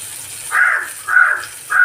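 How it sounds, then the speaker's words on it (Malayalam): A crow caws three times in a loud, evenly spaced series, harsh and nearby, with quiet background between calls. "കാക്ക ഇപ്പോഴും വന്നിട്ട് അവിടെ ഇരുന്ന് കരയാണ് കേട്ടോ."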